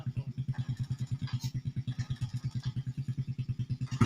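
A dirt bike on a rain-soaked, muddy trail, its engine thumping in a fast, even pulse at low revs, close and fairly quiet, with faint voices in the background.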